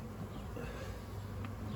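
Steady buzzing of many bees around hive frames, a continuous low hum with no voices, close and moderately quiet.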